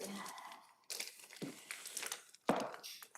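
Cardboard box sealed with heavy shipping tape being pulled open, with crinkling, crackling and tearing bursts in uneven spurts, a sharp rip near the end, close and moderately loud with no talk.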